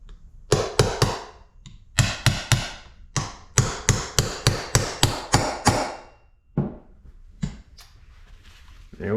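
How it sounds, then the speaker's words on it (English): Sharp hammer taps drive a greased seal into a motorcycle rear wheel hub on a 2012 RMZ250, landing in quick bursts of several strikes with short pauses between, close and loud. "Drive that seal in place."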